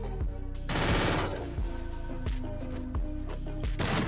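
MP5 submachine gun firing in a video game, several rapid bursts of automatic gunfire, loud and close, with crashing impacts between bursts.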